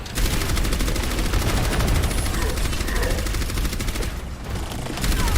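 Rapid, dense automatic gunfire from the hero Orisa in the Overwatch-style shooter video game rattles continuously and loudly, briefly easing near the end before resuming.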